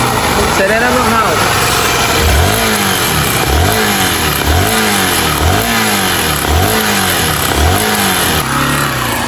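Motorcycle engine with a fault, revving in repeated bursts that rise and fall roughly every second, with a metallic iron-on-iron knocking mixed in; loud and close, with someone talking over it.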